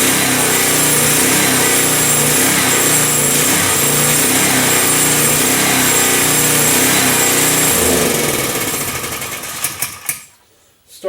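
Small Mach Marvels portable gas generator runs close by with a loud, steady buzzing engine drone that holds for about eight seconds, then sputters and fades out, leaving a couple of faint knocks.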